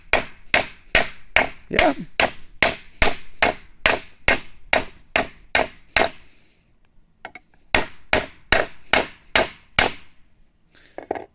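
A hammer strikes a metal part of a DIY 450W 36V e-bike kit in a fast, even run of sharp ringing blows close by. A brief pause follows, then another burst of strikes. A voice speaks once briefly.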